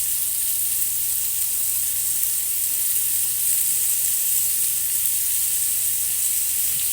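Salisbury steak patties and onion rings sizzle steadily in a hot pan, a loud continuous frying hiss with no pauses and no voices.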